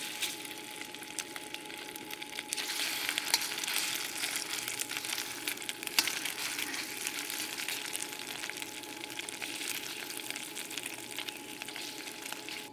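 Pork pieces fry in two tablespoons of hot oil for a stir fry, a steady, dense sizzle and crackle that holds level throughout, close up and without speech.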